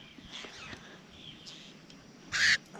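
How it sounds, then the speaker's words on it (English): Faint calls of wild birds outdoors in South Australia, followed by one sharp, loud squawk near the end. "I never saw these kind of birds. They're very noisy"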